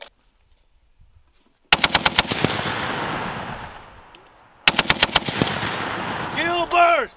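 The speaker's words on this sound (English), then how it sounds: "Charge it twice and let it run." An M2 .50 caliber heavy machine gun at a military firing exercise, heard as two loud, close bursts of rapid heavy shots, each trailing off into a long echoing rumble, with a brief shout near the end.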